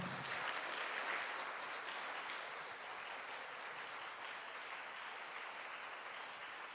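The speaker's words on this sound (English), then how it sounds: "thank you very much for standing claps" Sustained applause from an audience giving a standing ovation at a volunteering plenary session in Bangkok, a dense, steady wash of many hands clapping at even loudness throughout, with no voices over it.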